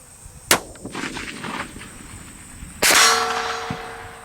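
Rifle shots from a Tikka CTR striking a large steel target backer at long range: two sharp metallic clangs, the second followed by a ringing, sustained tone, set against faint outdoor background.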